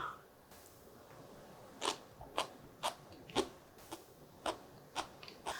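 Crisp, crunchy bites into a no-cook raw potato side dish, cut thin like noodles, repeating about every half second as eight or nine sharp chewing crunches close to the mic with no talk.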